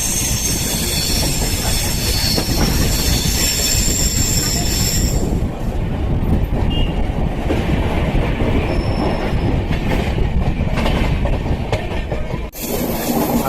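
A passenger train on the Vizag to Eluru route rounds a sharp curve, with loud, continuous rumbling wheels and high metallic squeals that come and go over the steady roar, close and dominant throughout.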